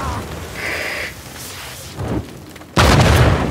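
A big explosion from the Uncharted: A Thief's End action game. It bursts in suddenly near the end as a loud, sustained broadband roar, with quieter game sounds and bumps before it.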